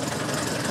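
A Robur LO 2002 truck with a diesel engine, originally built as a petrol model, runs steadily on a historic construction-site ride, giving a continuous dense droning chug heard up close and alone.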